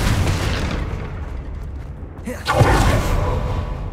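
The Confringo spell in Hogwarts Legacy goes off as a single booming blast about two and a half seconds in, preceded by a whooshing rush and followed by a rumbling tail.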